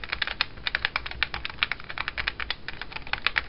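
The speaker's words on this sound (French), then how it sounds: "Même si c'est un clavier à dôme de caoutchouc, il y a une très bonne sensation." Rapid typing on a Keytronic rubber dome keyboard, a Model M replica, from a Compaq Deskpro: dense clattering keystrokes close to the microphone, in a steady irregular rhythm with no talk.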